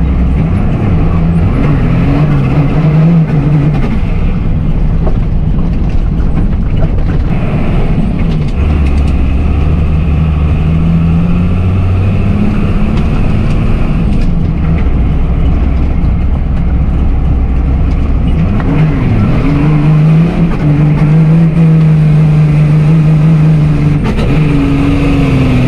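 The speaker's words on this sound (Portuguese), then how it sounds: "colocando a embreagem do caminhão, a ideia é passar toda a potência para o chão" A Ford F-350 truck with a Cummins 6BT diesel engine runs off-road, a loud, continuous low engine drone with rising and falling revs that surge and settle throughout, close by with no talk.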